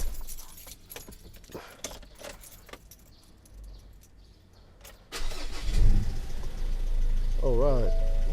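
A Mercedes-Benz, the owner's small Benz due for an oil change, gets its first start: keys jangle and rattle faintly, then the engine cranks and catches loudly, settling into a steady idle with a brief squeal.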